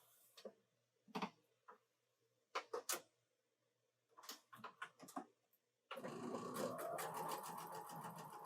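A sewing machine stitches quilt fabric pieces together. Scattered light clicks and taps come first, then a steady, close mechanical whir of continuous stitching runs to the end.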